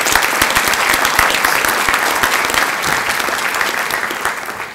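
Hearty applause from a crowded awards luncheon audience honoring medal of valor recipients in Torrance, California, many hands clapping steadily and fairly loud before slowly tapering.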